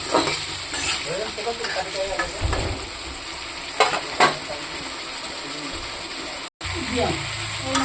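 Pieces of fish sizzle in a pan as spice paste is stirred in; continuous frying crackle and scraping spoon strokes throughout, with a brief dropout near the end.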